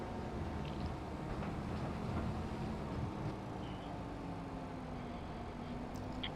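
A tractor engine in the farming video game Hof Bergmann drones steadily and loudly throughout, a dense continuous rumble with no talking.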